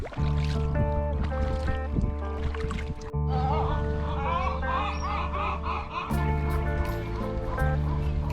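An inflatable kayak is paddled on calm water near an island off Baja, with soft paddle splashes and gurgles under a steady music bed and occasional bird calls.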